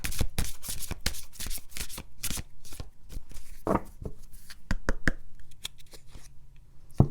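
Oracle cards shuffled by hand, a close run of quick riffling and slapping bursts, irregular and crisp, with short pauses between.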